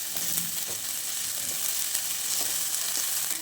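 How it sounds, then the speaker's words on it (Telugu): Onions and ginger-garlic paste frying in a pan for a chicken curry, a loud, dense, even sizzle with soft stirring scrapes underneath, close up and without speech. "పచ్చి వాసన పోయేదాకా ఫ్రై చేసుకోండి"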